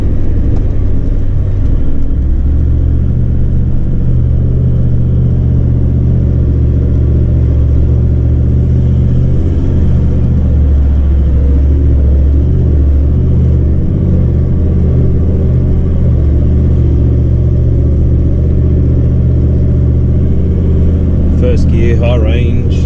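Off-road vehicle crawling in first gear, high range, on an outback track near Dalhousie Springs, its engine a steady low rumble close by throughout, with brief faint clatter near the end.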